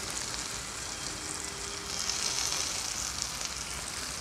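Chopped peppers, onion and garlic fry in a pan with a steady, close crackling sizzle that swells slightly midway, with no voices.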